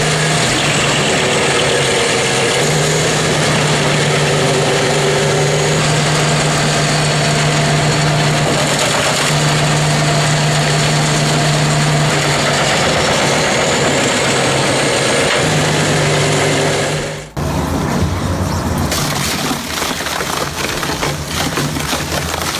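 A 1,150 horsepower engine on an industrial wood shredder runs with a loud, steady drone and hum, then its tone shifts abruptly near the end.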